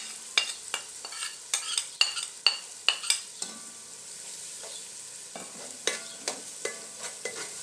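Masala of cumin, crushed chilli and spices frying in a pan for beef aloo keema, a soft steady sizzle under repeated sharp scraping stirs and clinks of a spoon against the pan, close and unaccompanied.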